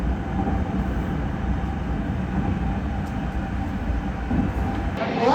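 A JR Tokai local train runs near Numazu with a steady, loud rumble of wheels and motors from inside the carriage, continuous and unbroken, with no voices.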